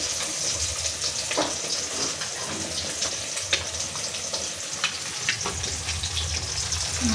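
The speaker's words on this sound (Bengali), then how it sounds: "মাছ ভাজা চলছে" Fish frying in a pan at home, a loud continuous hissing sizzle with faint scattered pops and a watery, rushing quality, steady from start to finish.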